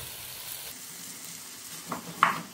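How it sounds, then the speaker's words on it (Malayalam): Green chillies and tomatoes sautéing in a pan for a Kannur Taliparamba style biryani make a quiet, continuous sizzle with a few soft stirring scrapes toward the end. "ഇത് ശരിക്കും വഴറ്റിയെടുക്കണം."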